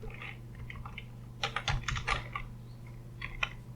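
Typing into a web form on a computer keyboard, quick light key clicks in short bursts, close and soft with no talking.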